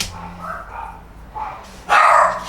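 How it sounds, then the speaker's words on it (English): Several neighbourhood dogs bark in short bursts, some at a distance and one closer and louder near the end, with no talk over them. "So the neighbourhood dogs have been set off by something"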